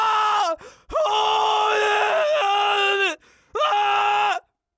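A single voice imitates an agonized, drawn-out scream in three loud wailing bursts, the middle one longest, with brief breaks between them and no other sound.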